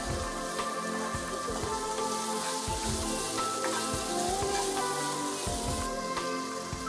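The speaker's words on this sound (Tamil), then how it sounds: "நல்லா வதக்குங்க, கொஞ்சம் கோல்டன் ப்ரௌன் கலரில் வரணும்." Onions sautéing in oil in a pan, cooking toward golden brown: a steady, close, dense sizzle with scattered crackles and pops, continuous throughout with no talk.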